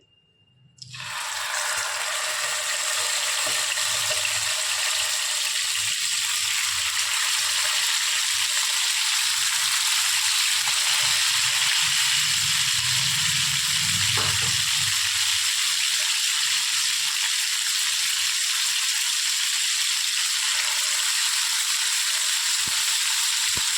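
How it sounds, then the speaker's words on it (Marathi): Marinated chicken sizzles and crackles in hot oil in a kadhai, a steady loud hiss starting abruptly after a brief quiet moment and continuing throughout, with occasional soft clinks. "आता आपण याला फ्राय करून घेणार आहोत"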